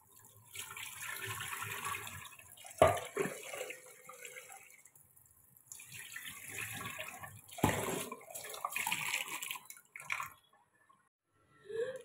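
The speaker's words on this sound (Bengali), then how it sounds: "একবার ধুয়ে ভিজিয়ে রেখেছিলাম, আর দুবার ধুলেই হয়ে যাবে।" Soaked rice being rinsed by hand in water, with intermittent splashing, dripping and sloshing in bursts across the clip, moderately close, with no talking.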